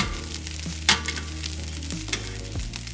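Breakfast fried rice sizzles steadily in a hot pan, with a scraping, shuffling rustle as the rice is tossed and flipped and settles back into a continuous fry.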